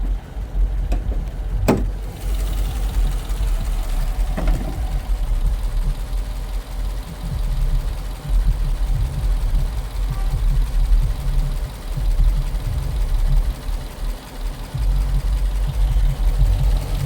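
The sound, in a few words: Dodge Durango 5.7 Hemi engine idling, ticking noise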